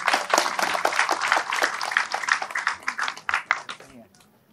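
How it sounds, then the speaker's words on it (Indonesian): Audience applause for Mas Amin at an Indonesian talk event, a dense burst of clapping lasting several seconds before tapering off at the end. "Tepuk tangan dulu buat Mas Amin."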